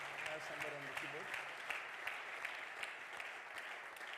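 A church congregation claps hands in steady rhythm during worship, many claps continuing throughout at moderate volume, with voices and music faintly underneath.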